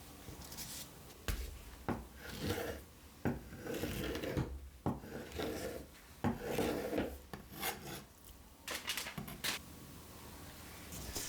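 Knife slicing boneless tilapia into long strips on a board, a quiet series of close rasping cuts and soft thumps in an uneven rhythm with short pauses between strokes.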